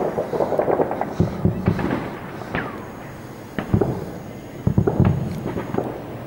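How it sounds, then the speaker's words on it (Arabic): Bombs dropped by warplanes explode over the Syrian city of Talbiseh in 2013, heard as a series of irregular, moderately distant booms and sharp cracks with rumbling echoes. "قصف على المدينة بالطيران الحربي"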